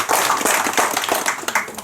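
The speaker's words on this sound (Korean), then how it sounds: "우리 박수 한번 하도록 하겠습니다." A church congregation at a Sunday service claps together in a short, close burst of brisk, fairly loud hand claps lasting under two seconds.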